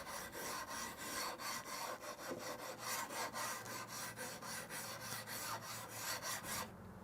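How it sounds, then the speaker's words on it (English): Sticky-back sandpaper on a flat stick rasps along a wooden bass guitar neck, a close, steady run of rhythmic back-and-forth strokes, about twenty in all, with no talking. "I've just got a flat stick here with some different grits of sticky back sandpaper on there"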